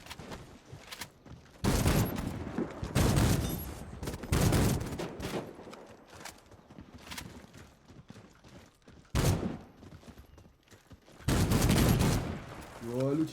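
Gunfire in the online shooter Warface, with repeated bursts of automatic weapons fire and loud volleys separated by quieter gaps, and a voice talking at times between the bursts.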